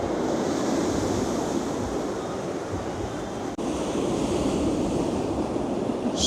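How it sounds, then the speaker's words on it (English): Sea waves at Blackpool with the tide fully in, splashing against the promenade steps and sea wall near the South Pier, a steady loud broadband wash with wind rumbling across the microphone throughout. "watching the waves splashing against the steps and the wall"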